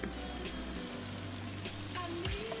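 Steady, dense sizzling and crackling of popcorn chicken frying in hot oil, close up and continuous.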